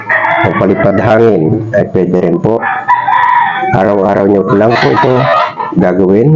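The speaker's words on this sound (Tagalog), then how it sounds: "Pasensya na sa ingay ng manok dahil yung kapitbahay ko dito ay sabungero." Roosters crow repeatedly and loudly nearby, overlapping one another, with chickens clucking, while a person speaks underneath the racket.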